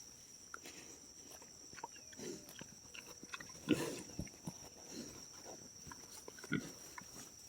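Pigs grunt on a family farm, a few low snorts and grunts rising at intervals over a steady outdoor background of insects and light movement, fairly close but not loud.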